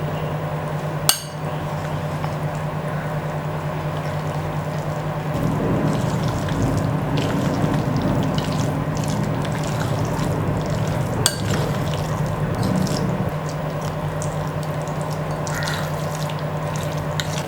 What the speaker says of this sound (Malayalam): ഇതിങ്ങനെ നന്നായിട്ട് മിക്സ് ചെയ്യണം.